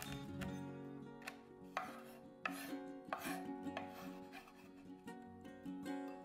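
A knife chops Mexican tree (arbol) chilies on a board: a run of sharp, irregular close-up chops over steady background music.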